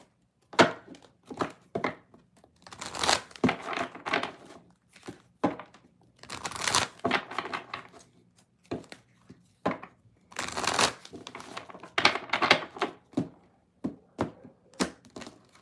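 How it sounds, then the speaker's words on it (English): A deck of tarot cards is shuffled by hand close up, giving repeated bursts of crisp riffling and flicking with brief pauses between rounds, and no one talks. "A whole lot of shuffling."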